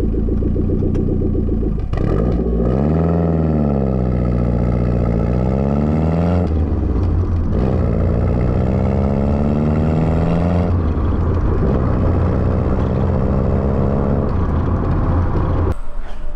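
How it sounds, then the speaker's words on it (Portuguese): A loud Lancia Delta Integrale 16v 2-litre four-cylinder engine runs steadily, its pitch rising and falling as it is revved repeatedly, with a deep rumbling tone throughout. "isto não parece um motor 2 litros 4 cilindros, isto parece que temos aqui um motor muito maior"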